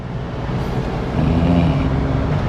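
A car corners fast on a test drive, heard from inside the cabin as a steady, loud road and engine roar that swells slightly partway through.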